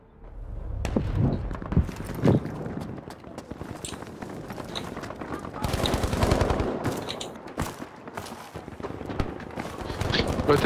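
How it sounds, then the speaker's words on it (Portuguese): Sustained automatic gunfire in Battlefield V, rapid rattling bursts that run nearly unbroken and loud across the whole stretch, with scattered sharper shots and impacts mixed in. "Vou até parar de disparar, a arma continua a disparar"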